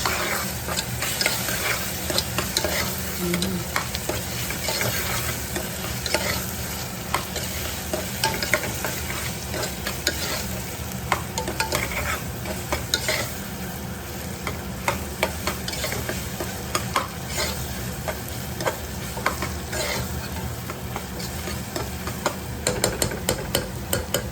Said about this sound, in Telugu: జింజర్ గార్లిక్ పేస్ట్ యాడ్ చేసుకొని కొంచెం బాగా కలుపుకుందామండి